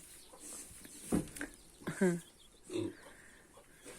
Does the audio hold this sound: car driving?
no